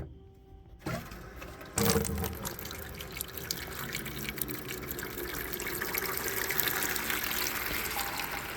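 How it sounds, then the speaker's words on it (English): Bucket filling from a tap for cleaning a Fluval 407 canister filter, with a steady rushing stream of water that starts abruptly after a brief knock and continues evenly, close and moderately loud. "while your bucket's filling up"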